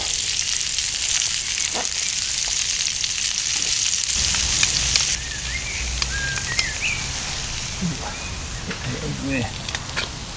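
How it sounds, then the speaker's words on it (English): Onions fry in a small pan on a camping stove in the woods, a steady hiss that drops lower midway, with someone talking over it and birds chirping in the background. "I'm going to chuck in the old onions and cook them down"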